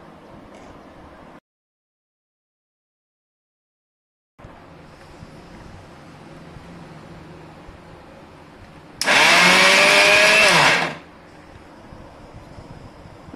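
A kitchen mixer grinder grinds a coarse spice paste with red chili powder for a vegetable curry: one loud, steady whirring burst of about two seconds, rising above quiet room noise.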